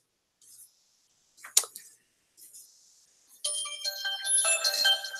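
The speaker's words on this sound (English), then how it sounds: "I forgot to turn off the noise of the phone." A phone chiming with notification sounds during a live chat: a few scattered soft dings and clicks, then a bright cluster of overlapping electronic tones near the end, close and moderately quiet.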